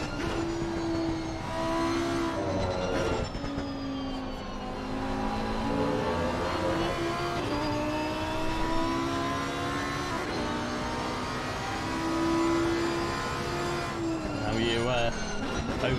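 Race cars on the Imola circuit in a racing video game, engines droning steadily with shifting pitch through turns 8 to 10, loud and continuous under a commentator's voice.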